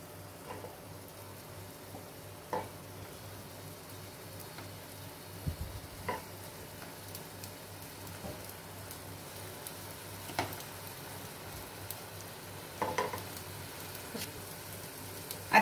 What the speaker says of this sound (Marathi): मग आता ह्याच्यात मी पॅटीस टाकणार आणि गोल्डन ब्राऊन रंग येईपर्यंत